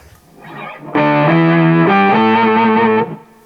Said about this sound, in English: I'm getting a blend between the octave above and below. Add some distortion in there.